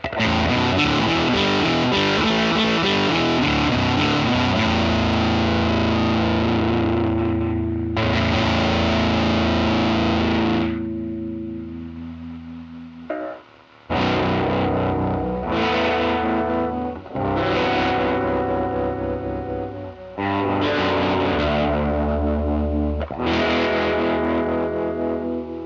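Guitar through an Electro Harmonix Holy Stain pedal with a reverse-order mod, pitch shifter into fuzz, playing fuzzy, deep baritone-like chords and riffs in several bursts with short pauses between, loud and without talk.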